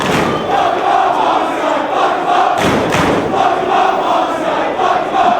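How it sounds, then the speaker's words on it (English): A large wrestling crowd in a Dayton arena roars and cheers continuously, a dense, loud wall of voices with a brief surge in the middle. "Listen to this crowd in Dayton."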